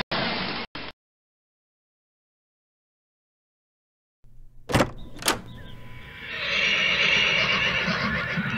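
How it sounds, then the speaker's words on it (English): A farm horse neighs loudly in a short burst, followed after a silence by further whinnies, snorts and shuffling movement nearby. "Horse."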